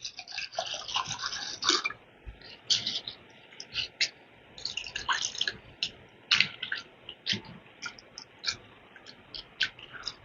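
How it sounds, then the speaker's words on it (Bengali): Flattened rice (chira) being rinsed in a bowl of water, with close, irregular wet squishing, sloshing and dripping sounds. "এবার চিড়েটাকে আমি 2-3 বার করে জল বদলে বদলে একটু ধুয়ে নেব, কারণ চিড়ের মধ্যে অনেক রকম নোংরা থাকে।"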